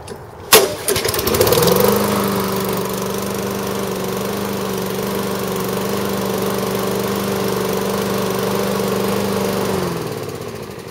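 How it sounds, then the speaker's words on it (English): A small Toro lawn mower engine pulls to a start with a sharp sputter, then runs at a steady, loud idle before cutting off near the end. "start it up for you and show you how it runs"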